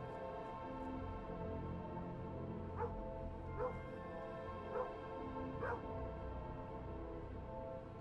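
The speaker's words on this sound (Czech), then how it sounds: "Pejsek štěká." A dog in the video game Kingdom Two Crowns, Dead Lands mode, gives about four short, faint barks spaced a second apart over a steady musical game background.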